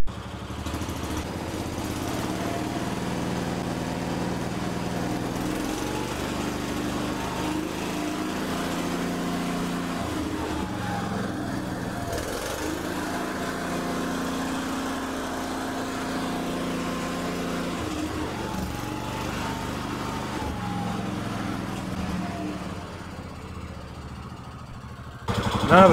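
Kohler K Series single-cylinder engine on a Cub Cadet 149 garden tractor, running steadily nearby and throttled up to a higher, even drone with a slight mechanical chatter, then dropping off at the end.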